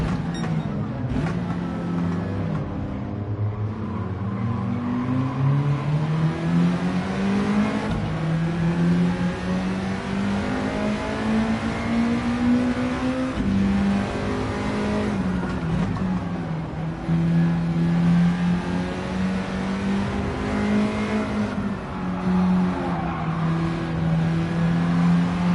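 A Honda EK Civic with a swapped engine in Gran Turismo 7 revs through gears while racing, its engine note rising and falling in long sweeps, with shifts between climbs. It runs loud and continuous for about twenty-five seconds.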